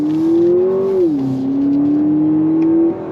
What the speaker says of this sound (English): But you can hear that pumped in sound trying to mask the 4-cylinder sound.